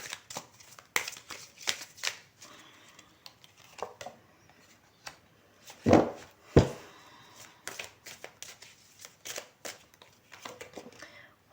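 Tarot cards being shuffled by hand, a run of crisp soft riffling flicks and taps with two louder bursts near the middle, close and fairly quiet, no voice.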